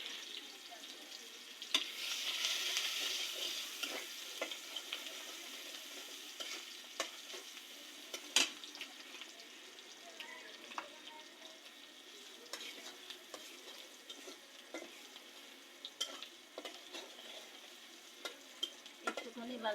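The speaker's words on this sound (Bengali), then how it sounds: "পেঁয়াজটা একটুখানি ভাজা ভাজা হোক।" Sliced onions fry in hot oil in a home kitchen pan, a soft continuous sizzle broken by frequent scraping clicks of a spoon stirring, fairly quiet and close throughout.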